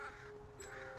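Young crow cawing in hoarse, repeated calls while being banded as part of a study of eight nestlings from five nests, the harsh cries close and loud and mixed with faint rustling.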